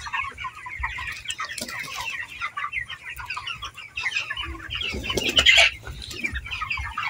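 Roughly two-kilogram chickens on a poultry farm, busy drinking water, cluck and squawk close by in overlapping bursts, with sudden wing flapping partway through.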